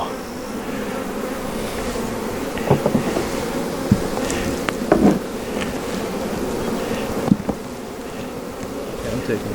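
Bees swarm around open beehive nucs with brood frames, a dense continuous buzz close by, broken by occasional knocks and clicks from handling the boxes.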